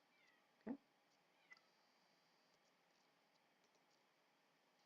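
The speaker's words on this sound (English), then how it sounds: "that's my cat meowing at me" A cat gives a short meow in a quiet room, followed by a softer second chirp; a voice speaks briefly.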